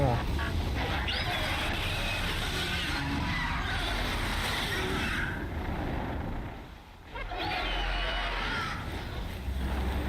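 Squawking bird calls from a video game, set in the ruins of Gaia Prime, come in short harsh bursts over a busy game soundscape, with a person talking loudly over them.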